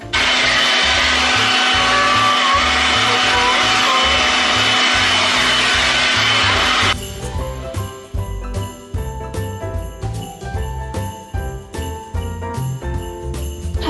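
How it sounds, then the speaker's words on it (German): A handheld hair dryer blows loudly for about seven seconds with a steady broadband rush and whine, then cuts off, leaving quieter clattering handling sounds. "Und deshalb muss ich jetzt mal den Föhn benutzen."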